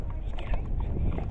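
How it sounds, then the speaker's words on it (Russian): Wind buffeting a microphone, a steady low rushing roar with faint rustling on top, fairly quiet and continuous. "Ветер дует."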